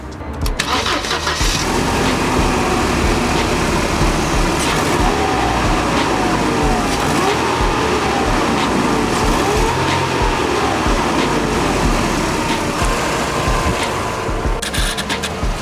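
A 2000 Mercedes C230 Kompressor engine cranks and catches after a tune-up, then settles into a steady, rumbling idle that continues close by.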